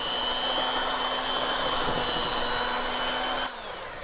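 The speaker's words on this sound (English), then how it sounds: "I'm gonna use this mixer for this portion." An electric mixer beats cream cheese frosting with a steady, close whirring drone and a thin motor hum, then cuts out near the end, leaving quieter room noise.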